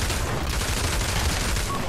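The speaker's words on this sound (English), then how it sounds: "It's a shotgun." Shotgun fire in the VR shooter Pavlov VR, a dense roar of gunfire that stays loud and steady without a break, as if several shots and rounds overlap in a continuous close barrage.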